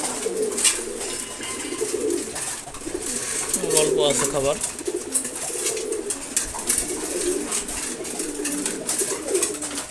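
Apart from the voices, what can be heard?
pigeons cooing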